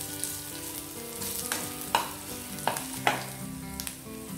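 Garlic and ginger sautéing in a pan, a steady soft sizzle with a few sharp utensil clinks against the pan, close and moderately loud with no talking.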